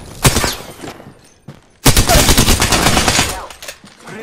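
Gunfire in the video game Apex Legends: a loud shot, a short pause, then a dense rapid burst of automatic fire that tapers off, close and harsh.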